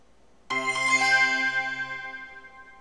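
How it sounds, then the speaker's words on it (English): Linux Mint 3.1 login chime: a single bright, bell-like synthesized jingle that strikes suddenly and rings out with a slowly fading tail, clear and alone without speech. "we have the same login sound today on the current version of Linux Mint"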